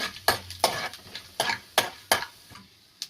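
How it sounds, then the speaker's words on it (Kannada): Chana dal and mustard seeds fry in oil while a spatula stirs them in quick, regular strokes, each pass a bright scraping rush over a faint sizzle, close up with no talking. "ಕಡಲೆಬೇಳೆ ಸ್ವಲ್ಪ ಬ್ರೌನ್ ಕಲರ್ ಬರೋವರೆಗೂ ಫ್ರೈ ಮಾಡ್ಕೊಳ್ಳಿ ಎಣ್ಣೆಯಲ್ಲಿ"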